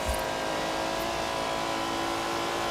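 A BMW 850CSI in Forza Horizon 4 roars along under hard acceleration, its engine drone steady and loud throughout with sustained tonal harmonics, no talk over it.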